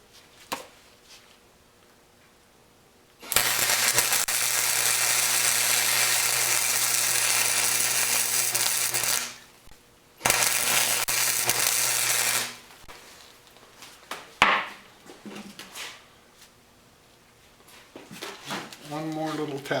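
Tack welding near a bolt on a boat trailer spare tire rack makes two long loud buzzing, crackling arcs at close range, then short bursts of clatter and some talking.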